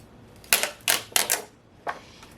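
A stencil peeled off a painted surface in a few quick crackling tears, four short bursts in close succession, near and crisp with quiet between.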